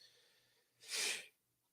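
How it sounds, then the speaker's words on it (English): A single sharp sneeze bursts out close to the microphone during a live news broadcast, brief and breathy against an otherwise quiet background. "I had a sneeze there."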